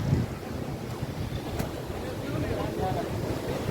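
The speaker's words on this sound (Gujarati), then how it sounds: "જોઈ લ્યો હાંડિયો હાલે છે" A boat moves on the sea near Madhupur bridge, a steady rumble of wind and water with lapping waves and gusts hitting the microphone, continuous and fairly loud throughout.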